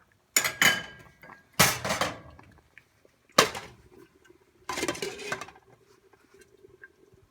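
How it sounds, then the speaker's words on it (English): Metal lid being handled on a cooking pot of Filipino chicken afritada, four separate clanks and rattles with quiet gaps between them, the last one a longer scraping rattle, close and fairly loud with no talking. "And I will be putting the lid back on."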